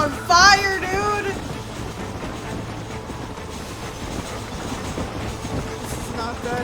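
A train in the video game Red Dead Redemption rumbles steadily with a dense rolling clatter. A brief high voice exclaims at the very start.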